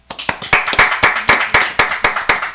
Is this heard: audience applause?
yes